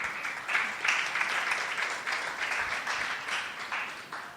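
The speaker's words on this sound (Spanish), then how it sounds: "Denle un aplauso al Señor" A church congregation applauds during a sermon, a moderate, uneven round of clapping that swells and dips, heard from within the room without speech over it.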